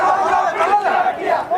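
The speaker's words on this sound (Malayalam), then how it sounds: "ആർപ്പ് വിളിയുണ്ട്, ലീഗ് നേതാക്കളുടെ ആരവമുണ്ട്, UDF നേതാക്കളുടെ ആരവമുണ്ട്" Crowd of Muslim League and UDF leaders and Congress workers cheering and shouting to welcome P. K. Kunhalikutty in Thiruvananthapuram, a loud, close burst of overlapping voices and rising shouts.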